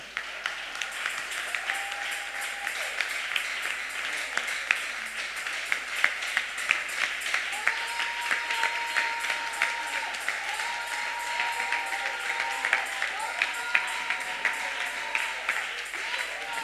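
A church congregation applauding and cheering, sustained clapping with sharp individual claps throughout, plus a held sung or shouted tone rising above the crowd partway through.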